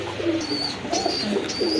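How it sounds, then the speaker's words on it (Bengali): A pair of racer pigeons give repeated low cooing calls up close, several rolling coos across a couple of seconds over a steady background hum. "একজোড়া রেসার কবুতর"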